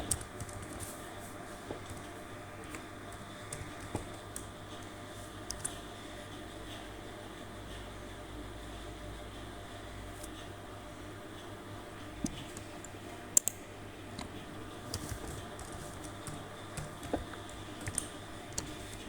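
Quiet typing on a computer keyboard while entering a password, scattered light key clicks with brief pauses over a faint steady hum, no talking.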